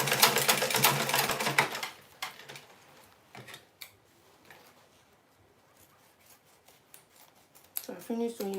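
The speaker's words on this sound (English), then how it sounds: "So I finished sewing, I'm cutting out the excess." Scissors cutting away excess fabric after sewing, with a loud burst of snipping and sliding blade noise at first, then sparser, quieter snips and a few sharp cuts near the end.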